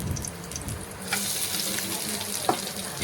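Garlic and chopped onion fry in a pan with a steady, close hiss of oil, a few brief clinks of stirring breaking through the continuous sizzle.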